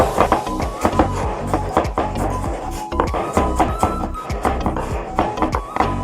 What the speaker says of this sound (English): So here are 3 clove garlic and ½ inch of ginger. We have to chop them all.